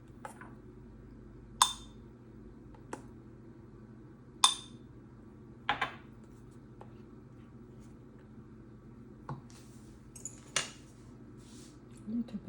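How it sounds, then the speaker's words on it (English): Spoon clinking and scraping against a bowl or glass while passion fruit mousse is spooned in, a handful of sharp isolated taps spaced irregularly over a quiet kitchen background. "I will use spoon to spoon it in"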